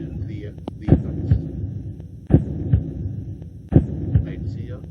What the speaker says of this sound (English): When it's 3 yards and under, then you get those heartbeats.